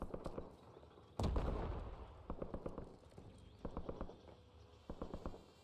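Footsteps in a Warzone match near a gas station, rapid crisp steps in irregular bursts, with a loud heavy blast early on and distant gunfire around.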